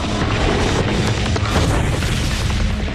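Bombs from a squadron of bombers exploding, a continuous loud rumbling barrage of booms with no pauses, close and dense throughout.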